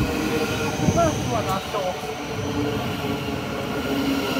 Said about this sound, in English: That's a good train.